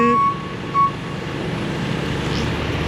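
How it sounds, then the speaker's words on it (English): Truck reversing alarm on a rainy city street, one or two sharp beeps early on, then steady traffic and rain noise. "This vehicle is reversing."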